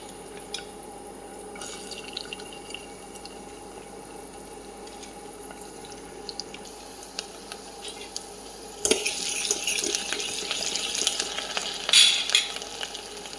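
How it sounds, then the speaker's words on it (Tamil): Hot oil sizzles quietly, then bursts into loud crackling frying as onion, green chili, curry leaves and coriander leaves are dropped in for a mushroom curry, the sizzle staying busy and close with stirring. "எண்ணெய் சூடானதும் வெங்காயம் பச்சை மிளகா கருவேப்பில கொத்தமல்லி இலை எல்லாம் போட்டுக்கோங்க"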